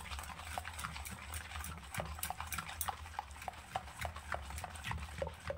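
A ladle stirs pitha batter in a bowl, making quick, regular soft taps and scrapes at close range in a quiet setting, with no talking.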